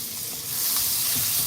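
Kerrygold butter sizzles in a very hot pan on a stove set to high, a dense, steady hiss that swells slightly and stays loud and close.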